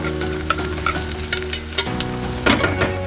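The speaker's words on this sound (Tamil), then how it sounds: "பாருங்க, வெங்காயம் வதங்கிட்டு இது போகிறோம்." Onions sauté in ghee in a pot for Karnataka-style ghee rice, a steady close sizzle broken by several sharp scraping stirs and clinks of a spoon against the pot, with no talking.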